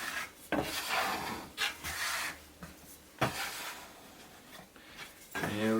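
Sourdough bread dough is shaped by hand with quarter turns, giving soft rubbing and dragging sounds across a work surface in short repeated strokes, with a couple of sharper taps, fairly quiet and close.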